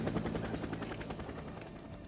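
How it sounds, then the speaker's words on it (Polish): A helicopter in the video game Days Gone gives off a continuous rapid rotor chop, loud and close, holding steady throughout. "Jest kolejny śmigłowiec."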